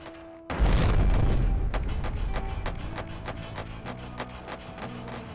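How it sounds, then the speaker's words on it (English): A ship is destroyed in the space game Wayward Terran Frontier, a loud booming explosion bursting suddenly and then rumbling into a string of smaller crackling pops and debris impacts that fade out. "I'm just gonna destroy it."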